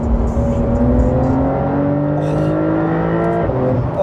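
A Porsche 911 Carrera 992.2 accelerates hard with its PDK gearbox, a loud close engine note climbing steadily in pitch before a quick gearshift drops it and the revs rise again.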